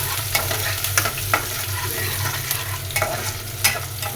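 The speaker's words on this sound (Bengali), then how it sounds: "পেঁয়াজের সাথে মাছটাও ভেজে নেই। তেলের সাথে চিংড়ি মাছটা ভাজলে ফ্লেভারটা ভালো লাগে" Shrimp frying with onion in hot oil, a steady close sizzle broken by scattered crackles and occasional stirring clicks, with no voices.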